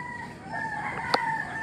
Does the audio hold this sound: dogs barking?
no